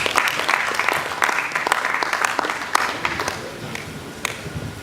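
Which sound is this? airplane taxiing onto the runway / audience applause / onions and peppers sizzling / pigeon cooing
audience applause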